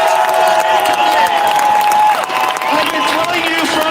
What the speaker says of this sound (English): Let's hear a round of applause for the police